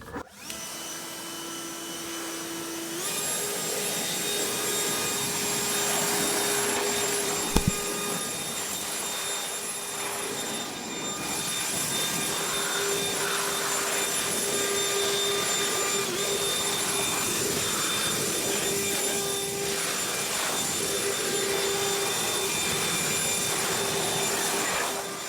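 A Cobalt 2000 Nimbus 630 dryer blows air over a freshly washed engine, a steady loud whooshing whine with a high tonal hum that runs unbroken, broken only by one brief knock partway through.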